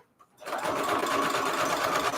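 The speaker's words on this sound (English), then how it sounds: "Sorry, sewing in the same spot." A sewing machine stitching through a junk journal runs steadily after a brief quiet start, a close, even mechanical whir with rapid needle chatter.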